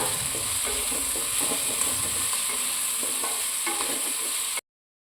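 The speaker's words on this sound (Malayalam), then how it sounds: "അതും കൂടെ ആഡ് ചെയ്യാം നല്ലതുപോലെ ഇളക്കി കൊടുക്കാം" Garlic and ginger sizzle and fry steadily in a pan for a Kerala fish curry, with repeated stirring scrapes over the constant hiss, close and fairly loud, no talk.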